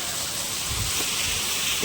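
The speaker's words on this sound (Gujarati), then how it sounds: "ફર્સ્ટ ક્લાસ વરસાદ ચાલુ થઈ ગયો છે" Heavy monsoon rain falls in Gujarat as a steady, dense hiss, close and loud, with some wind buffeting and no other sounds breaking through.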